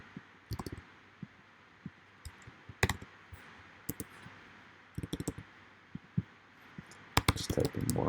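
Scattered keyboard key clicks in short bursts and single taps, fairly quiet and close, with a louder quick flurry of typing near the end and no talk.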